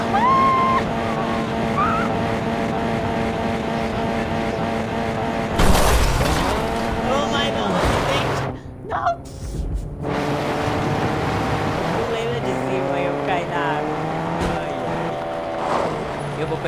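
A car driven in Fortnite, with a steady engine drone that rises and falls, a loud burst around the middle like a crash or landing, and a player talking over it throughout.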